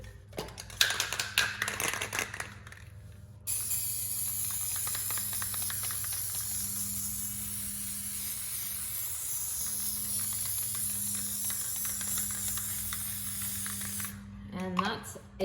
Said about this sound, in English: 3 liberal coats of this. Top coat, clear matte.